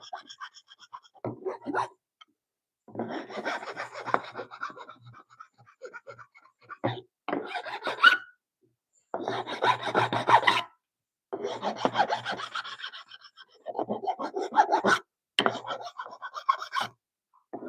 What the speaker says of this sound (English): we're just gonna file it a little bit